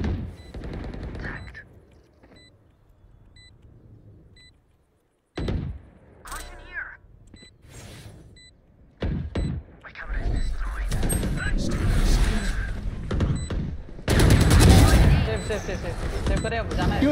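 Valorant gunfire in a ranked match: sharp shots and rapid bursts crack out, sparse at first and then denser and louder toward the end, mixed with game effects while a player talks.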